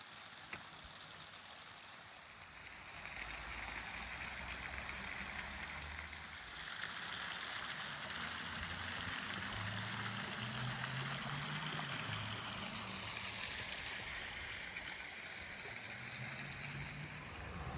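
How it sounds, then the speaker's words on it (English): Steady rushing water of Sugar Creek flows continuously with a soft, broad hiss as a kayak floats past, with no voices. "I'm going to quiet down so you can hear the water."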